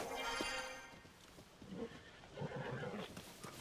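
Horses neigh and whinny in Zelda: Tears of the Kingdom, with a loud whinny at the start, then softer snorts and hoof clip-clops in the open field amid game ambience.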